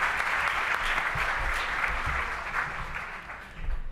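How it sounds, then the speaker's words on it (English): An audience at a state-level CBMS forum gives a steady round of applause for several presenters, dense clapping sustained throughout at a moderate level, tapering slightly near the end. "Let's give them a round of applause."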